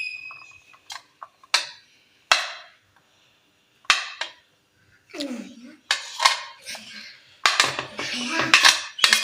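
Peas tipped into a bowl of Russian salad with cubed carrots, giving scattered clinks and light clatters against the bowl, some sharp and isolated, busier near the end.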